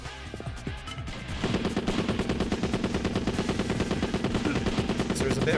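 Automatic gunfire in the Yakuza 2 video game, a rapid, evenly spaced stream of loud shots that starts after a second and keeps hammering steadily to the end, following some scattered thuds.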